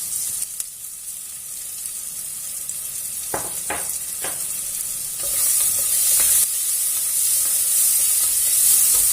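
Salted onions sauté in a pan for tomato rice, a steady sizzling hiss that grows louder partway through, broken by a few sharp spatula taps and scrapes against the pan.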